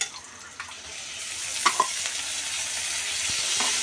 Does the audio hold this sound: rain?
no